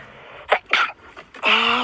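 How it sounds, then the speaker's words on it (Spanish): A woman with a cold sneezes several times in quick succession, with short sharp bursts close to the mic followed by a longer voiced exhalation at the end. "Yo resfriada grabando mis estornudos."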